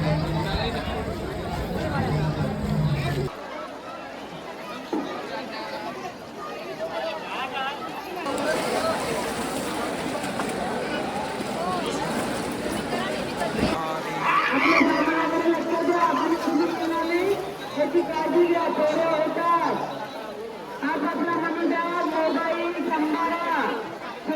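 A dense crowd of pilgrims on the Brahmagiri trek around Trimbakeshwar on a Shravan Monday, steady babble of many voices and movement, with a nearby voice talking over the hubbub throughout.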